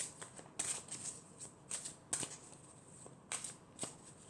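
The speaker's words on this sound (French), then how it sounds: "je vais prendre une carte de l'archange Michael pour avoir le message pour cette année 2020." Archangel Michael oracle cards being shuffled, several short crisp riffling bursts spaced over a few seconds, close and quiet with no speech.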